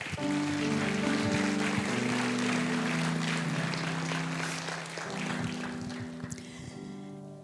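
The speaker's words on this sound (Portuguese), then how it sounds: "Você pode aplaudir a Ele?" A church congregation claps during an evening worship service, producing a broad wash of applause under sustained organ or keyboard chords, moderately loud and fading slightly near the end.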